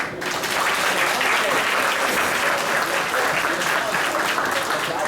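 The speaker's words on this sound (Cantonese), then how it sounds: "我哋再俾熱烈掌聲佢哋" An audience applauds after a dance performance, dense sustained clapping from a large crowd at a steady loud level across the whole stretch, with a few scattered voices mixed in.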